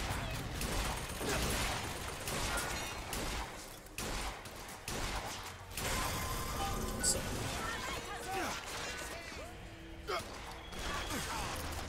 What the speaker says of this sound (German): Könntet ihr zwei Minuten aufhören zu schießen?